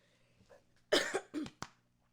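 A couple of close, sharp coughs follow one another quickly, then quiet.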